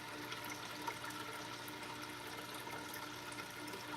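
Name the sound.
aquarium water transfer pump moving water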